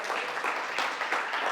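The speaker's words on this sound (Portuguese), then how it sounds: "Dá um aplauso aí, pelo amor de Deus." A church congregation applauds during a Portuguese-language sermon, a soft wash of clapping from a room of worshippers that swells and eases in waves over a brief moment.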